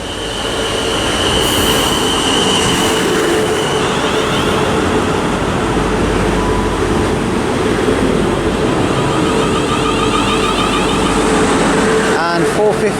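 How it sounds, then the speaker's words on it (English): A South Western Railway train from Poole to London Waterloo pulls into Southampton Central, a loud, continuous rumble with high-pitched wheel squeals and brake tones, building to a nearby roar and ending in a sharp metallic clatter. "arriving now is the 12:55 South Western Railway service from Poole to London Waterloo"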